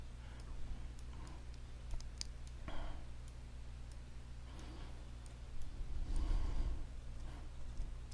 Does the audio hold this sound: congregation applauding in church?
no